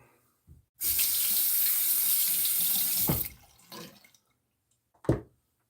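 A bathroom faucet runs in a steady, loud stream for a couple of seconds while someone rinses during a shave, then shuts off, followed by a few soft knocks and splashes at the sink.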